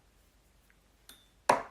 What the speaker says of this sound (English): that was just my phone